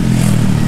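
Yamaha Mio scooter engine running steadily up close, a loud low rumble with no voices over it.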